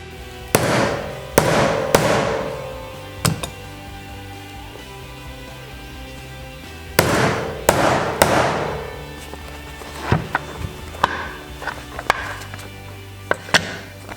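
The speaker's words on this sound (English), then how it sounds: "and then I can set those snaps." Snaps being set on a buckskin leather roll-up foraging bag with a setter, giving loud, sharp hammer strikes in quick pairs and singles, then a run of lighter, scattered taps.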